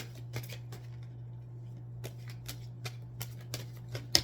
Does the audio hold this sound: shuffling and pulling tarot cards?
yes